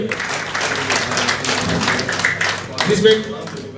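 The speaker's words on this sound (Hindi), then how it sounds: "तालियों की आवाज से इनका स्वागत होना चाहिए, सम्मान होना चाहिए।" A crowd at a public event in Karnal, India claps steadily in sustained applause welcoming a state agriculture minister, with voices mixed in underneath.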